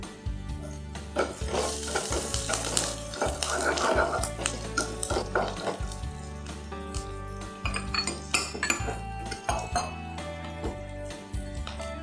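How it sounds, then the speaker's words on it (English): Green chilies hitting a hot pan while fish gravy is cooked, with steady clinks and scraping of a utensil against the pan close up over a soft frying background, no talking. "Adding the green chilies."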